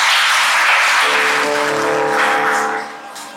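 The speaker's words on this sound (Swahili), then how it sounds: "Wapigiwe makofi" Wedding guests clapping for the couple, a dense burst of applause that holds for a few seconds and then fades, with a sustained musical tone rising beneath it partway through.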